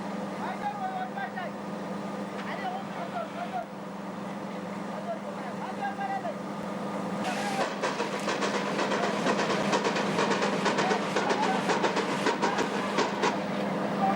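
A tiny narrow-gauge steam locomotive sets off on the Eritrean railway, its engine leaking steam and water from the smoke box; a low hum gives way to rapid clattering and hissing that grows louder, with a voice faintly audible.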